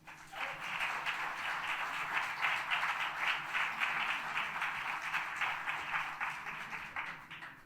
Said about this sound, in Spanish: Todos se merecen un fuerte aplauso